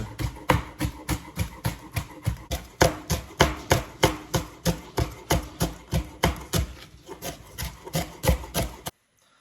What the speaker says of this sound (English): we're gonna cut it very fine